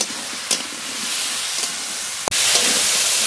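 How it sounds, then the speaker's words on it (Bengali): Ridge gourd is sautéed with salt and turmeric in a hot pan, giving a loud, close, continuous sizzling hiss with a brief sharp stir clatter near the end. "এবার একটু কষিয়ে নেব"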